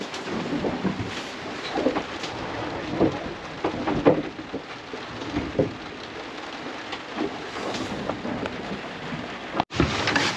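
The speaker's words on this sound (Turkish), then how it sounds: "Şimdi de şimşek ve yağmur başladı." Steady rain patters across an open stretch of water on a sailing passage toward a marina, with low rumbles of thunder and scattered louder drops rising and falling over about ten seconds, no voices.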